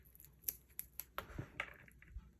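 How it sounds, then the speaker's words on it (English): A plastic credit card slices through the paper spine of a composition journal, producing faint, close scraping cuts and a few soft crisp ticks in a quiet room. "I'm just going to use this little credit card to cut it off with"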